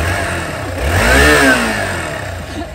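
A motorcycle engine starts and revs, rising to a loud mid-pitched roar that climbs and falls back toward idle, close to the microphone.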